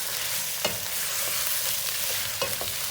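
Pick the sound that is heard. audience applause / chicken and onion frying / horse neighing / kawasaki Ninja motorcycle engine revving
chicken and onion frying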